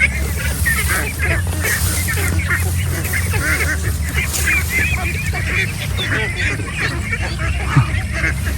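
Ducks kept on a farm, now wild and shy of people, call in a loud continuous chorus of honking quacks, close by and overlapping throughout.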